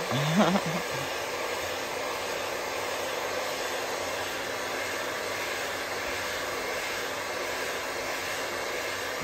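Heat gun blowing a steady hot-air roar onto a moped engine part to fit a bearing on a Sherco 50cc, continuous and close throughout with a brief knock at the start.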